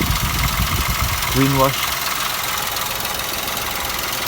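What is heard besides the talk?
2008 Toyota Yaris petrol engine idling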